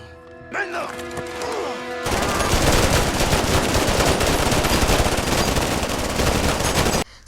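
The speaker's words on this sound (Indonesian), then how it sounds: "Tentara Taliban yang mengejar mereka terus menembaki pasukan Kovac dari kejauhan." Sustained automatic gunfire from Taliban soldiers in a war film, loud dense bursts of rapid shots after a brief musical intro, continuing unbroken for several seconds before cutting off abruptly.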